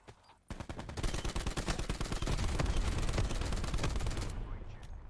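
Gunfire in the shooter Black Ops 4, a sudden start into rapid sustained automatic bursts with overlapping shots from several weapons, loud and close, then cutting off near the end.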